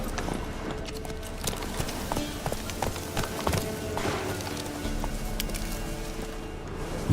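Horse galloping in the Witcher 3 video game, rapid rhythmic hoofbeats thudding continuously and loudly over an ambient game soundtrack, with no pauses.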